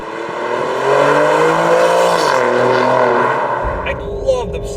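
Alfa Romeo Giulia Quadrifoglio V6 engine revs loudly and steadily, its pitch sweeping up and down for several seconds before a sudden deep low rumble and a sharp blip near the end.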